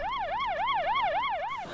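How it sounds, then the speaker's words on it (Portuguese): An air-raid warning siren in Israel sounds before dawn, warning of rocket fire from Gaza, wailing up and down in quick, regular cycles about every quarter second, loud and steady with no voices. "O som das sirenes ainda de madrugada indicava o risco de disparos vindo de Gaza"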